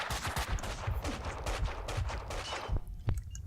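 Rapid gunfire in the shooter game Max Payne 2, set in a hospital, with a loud, close, dense stream of shots ending in a few heavier, separate blasts.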